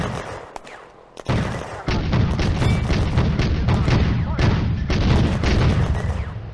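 Loud booming gunfire in a WWII Eastern Front video game battle as a tank gun fires a high explosive shell at a 45mm anti-tank gun, heavy blasts following a brief quiet, with dense battle noise continuing throughout.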